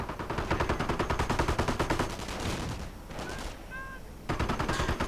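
Dense gunfire in a real-time strategy video game battle, rapid machine-gun bursts and rifle volleys rattling loudly, with a brief lull in the middle before the firing resumes.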